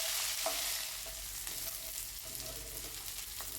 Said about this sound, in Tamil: இப்போ வெங்காயத்தையும் சேர்த்துக்கலாம். அதையும் ஒன்றா சேர்த்து வதக்கி விடுங்க.